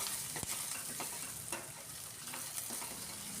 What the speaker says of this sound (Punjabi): ਇੱਕ ਵਾਰੀ ਥੋੜੇ ਜਿਹੇ ਪਿਆਜ਼ ਮੈਂ ਫਰਾਈ ਕਰ ਲਾਂਗੀ